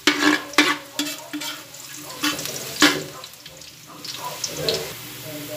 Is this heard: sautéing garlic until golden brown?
yes